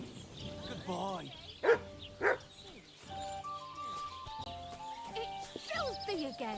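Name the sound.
dog barking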